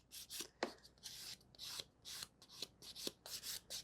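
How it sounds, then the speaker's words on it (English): A natural fingernail is filed with a nail file in quick repeated rasping strokes, about a dozen bursts in an uneven rhythm, close and fairly quiet with no talk. "And what I'm doing, I'm gonna file it"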